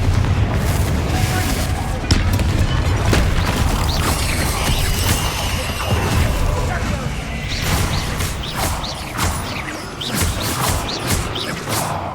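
Spell combat in the video game Hogwarts Legacy, with Confringo fire blasts among other casts: a dense, continuous clatter of booms, crashes and mechanical rattling, loud and close throughout, with scattered sharp impacts and game voices mixed in.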